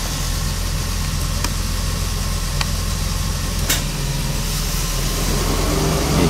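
A DeLorean DMC-12 engine idles steadily near 850 RPM with the air conditioning switched on and an aftermarket idle speed controller fitted, giving a constant low rumble with a few faint clicks.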